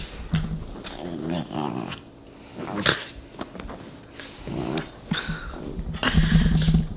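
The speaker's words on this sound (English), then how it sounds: "Can you hear that puppy?" A puppy growls and barks in short bursts, with whimpering in between, fairly close and lively.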